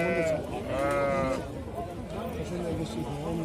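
Sheep bleat repeatedly at a livestock market near a tall four-toothed ram, wavering cries rising over a busy crowd with people talking throughout.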